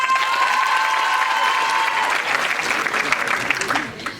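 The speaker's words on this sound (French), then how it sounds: "Applaudissements" A theatre audience at an improv Christmas show applauding, dense sustained clapping close by with a few cheers, while a high sustained tone rings through the first half.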